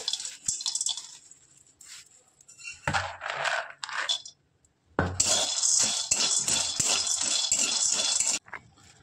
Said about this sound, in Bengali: তো বন্ধুরা, এবার একটু অহবেলগুলোকে একটু নেড়ে নেব।